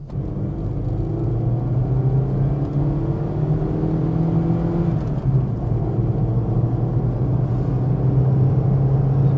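Opel Kadett driving up a long straight hill, heard from inside as a steady low engine drone and road rumble with slowly rising whirring tones, loud and unbroken.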